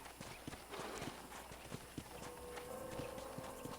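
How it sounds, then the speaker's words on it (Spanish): Hooves clip-clop in a steady rhythmic gait as a wild horse is ridden in the Red Dead Redemption video game, a quiet, even beat over a faint game backdrop with a brief tonal sound near the end. "Vamos por ese caballo renegado."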